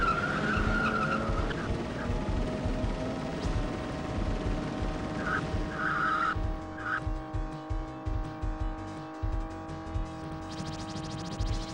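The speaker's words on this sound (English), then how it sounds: "You can hear the car like passing between the girders." In the Outrun arcade racing game, a car engine drones steadily with tire squeals, and a rhythmic pulsing flutter sets in as the car passes between girders.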